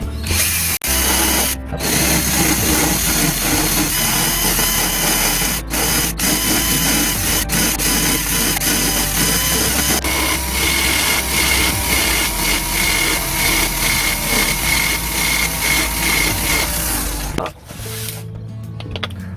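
A power tool grinds down a homemade plastic GoPro mount by about half a millimetre inside a box, giving a loud, continuous whine for most of the stretch before it stops abruptly near the end.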